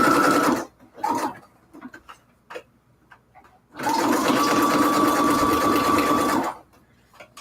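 A sewing machine runs a zigzag stitch on fabric in two bursts, a brief start and then a steady, close mechanical whir of about three seconds, with light handling clicks between.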